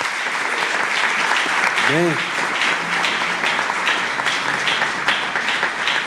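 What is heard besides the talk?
church congregation applause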